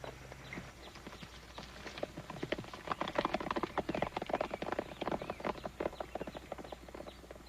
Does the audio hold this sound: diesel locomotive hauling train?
no